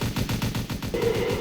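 Minigun fire from the Golden Commando tower in the Roblox game Tower Battles rattles as a rapid, continuous stream of loud shots, close and alone, with a rising tone entering near the end.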